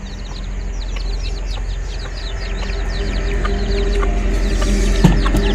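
Chickens cluck and chirp softly in the background over a steady outdoor hum, with brief scattered calls throughout.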